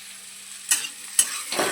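Salt being stirred into vegetables frying in a pan for sabudana pulao: a soft steady sizzle with three distinct spoon scrapes, the first two sharp and the last more drawn out.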